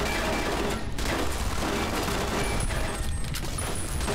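Rapid sustained gunfire from automated turrets in the Fallout video game, a loud continuous barrage of overlapping shots with no pauses, filling the whole short stretch.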